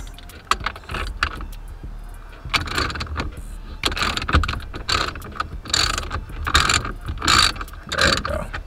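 A hand ratchet clicks in quick bursts of pawl ticks while tightening a car's steering wheel, with metallic clinks and short pauses between runs, close and fairly clear.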